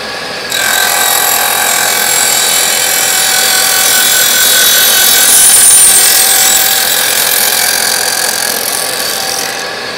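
A slot is cut into a wooden whirligig hub, a loud, continuous, close cutting drone that holds steady for about ten seconds, swelling slightly midway, with no speech.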